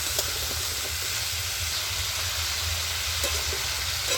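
Potato and papaya stir-frying in a pan with green chilli for a vegetarian curry, a steady soft sizzle and hiss with low rumble underneath, continuous and close.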